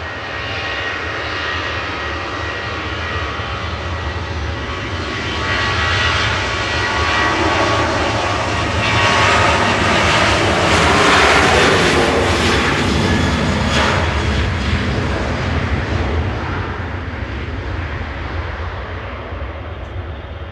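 KLM Boeing 737-800 jet, sixteen years old, at Manchester Airport, its engines roaring steadily and swelling to a peak midway before easing slightly, loud and continuous with no talk.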